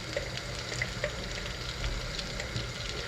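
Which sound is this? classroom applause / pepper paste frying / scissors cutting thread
pepper paste frying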